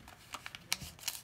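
Paper is folded by hand for an origami frisbee or ninja star, with several soft, close crinkles and creases in an irregular rhythm, quiet and with no one talking.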